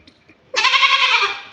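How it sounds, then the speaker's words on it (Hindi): A goat lets out one loud, sustained bleat at close range after a short quiet moment, harsh and wavering, alone without any talk. "देख रहे हो कितनी ज़ोर से चिल्ला रही है ये"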